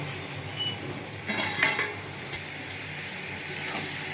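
Lid lifted off a pan of ridge gourd shukto, a brief clatter of metal followed by a steady soft sizzle of cooking vegetables in oil, close and alone.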